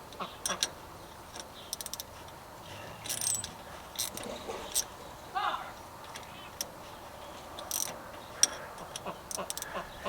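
Ratchet wrench tightening bolts on a John Deere 2030 tractor alternator, scattered quick clicking bursts and metallic ticks at close range, with someone talking at times.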